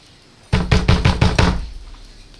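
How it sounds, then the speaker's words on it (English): Someone bangs on the inside of a door in a storybook scene: five heavy, close knocks in rapid succession, then a fading echo. No speech. "Moonface banged on the inside of his door."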